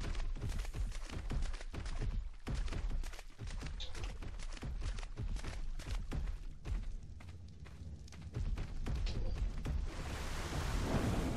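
Rain and thunder in the video game Ark, a dense, loud wash of heavy rain with rumbling thunder rolling through, steady from start to finish with no voices.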